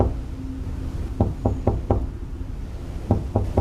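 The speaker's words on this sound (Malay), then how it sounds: "Ada lagi bunyi ketukan." Knocking on a house door at night comes in two bursts, a quick run of four sharp raps followed by a pause and then three more, fairly close over a low background hum.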